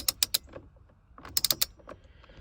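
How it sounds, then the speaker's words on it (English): Torque wrench ratcheting on a Crown Victoria steering wheel bolt: two bursts of three sharp, close mechanical clicks, separated by quieter fiddling noises. "Use your torque wrench. We're going to tighten the rest of the way."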